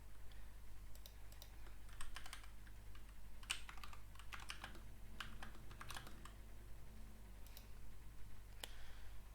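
Faint keystrokes on a computer keyboard tap out a shortcut, Ctrl K then C, as scattered light clicks over a low steady hum, with no speech.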